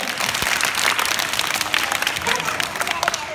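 An audience claps steadily for about three seconds at a camp gathering, a dense, loud patter with a few voices mixed in.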